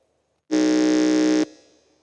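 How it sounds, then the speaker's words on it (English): A quiz contestant presses an electronic buzzer at a science and maths quiz championship, and a single loud, steady buzz lasts about a second before cutting off into a fading room echo. "Kindly press your buzzer."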